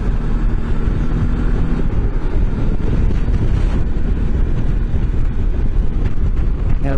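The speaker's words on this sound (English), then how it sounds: "That's some serious wind, boy." Strong gusty wind buffeting a rider on a Honda CB 500X motorcycle with the face shield down, a loud, continuous rushing roar and microphone rumble throughout.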